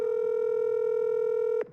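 One steady electronic phone keypad tone holds for over a second and a half and then cuts off abruptly while a call is being merged.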